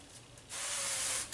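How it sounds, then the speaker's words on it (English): Avocado oil spritzed from a spray bottle onto breakfast food before it goes into a toaster oven: one steady, close hiss lasting under a second, with a short extra puff at the end. "I'm just going to spray this baby with a little avocado oil."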